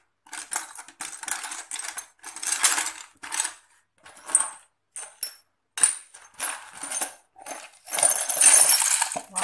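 Glass items clink and rattle as they are handled for disposal, in irregular bursts of bright clattering separated by short pauses.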